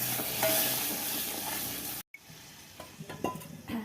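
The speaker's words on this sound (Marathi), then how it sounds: "तेल गरम झाला आहे। आपण आता हे पूर्ण मसाल्याच्या मध्ये टाकून देऊ।" Hot oil poured over the spices for chana masala sizzles loudly and continuously, then the sound cuts out briefly and resumes as a quieter, crackling fizz.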